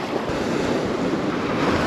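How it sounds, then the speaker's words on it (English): Steady, gusty wind blows across an open beach where someone is surf fishing, a continuous loud rushing roar with crashing surf mixed in and no voices. "It's getting windy."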